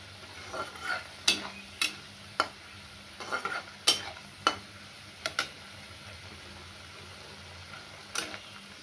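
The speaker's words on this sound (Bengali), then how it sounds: "এই মশলাটাকে কষছি, পোস্ত বাটা দিয়েছি, ধনে গুঁড়ো, লঙ্কা গুঁড়ো, হলুদ গুঁড়ো।" Spice paste with poppy seed paste, coriander, chilli and turmeric powders being stir-fried for potato and kudri curry, heard as a soft sizzle broken by several sharp scraping clicks of a spatula at irregular intervals, close by.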